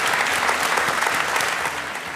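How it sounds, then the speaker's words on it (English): A seated audience claps loudly and steadily after an onstage conversation about Facebook, a dense wash of many hands close by with no voices over it. "we give Cecilia a big hand of applause"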